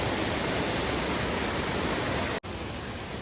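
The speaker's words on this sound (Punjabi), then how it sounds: "ਸੜਕ ਤੇ ਇਸ ਤਰੀਕੇ ਨਾਲ ਪਾਣੀ ਵਗ ਰਿਹਾ ਹੈਗਾ ਲਗਾਤਾਰ" Loud, constant rush of cold mountain water streaming across a road between Tharali and Bageshwar, a broad unbroken roar with a brief cut near the end.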